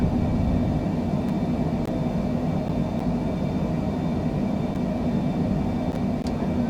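Cessna Citation C700 jet rolling for takeoff at night from London City Airport in Microsoft Flight Simulator, a loud constant engine roar and rumble with a faint steady high whine, no pauses.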